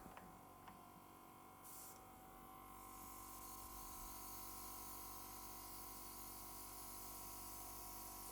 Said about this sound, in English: Grab my airbrush again